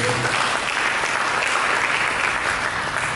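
A church congregation at a Sunday sermon gives a burst of dense, steady applause, many hands clapping together at full volume throughout the short moment.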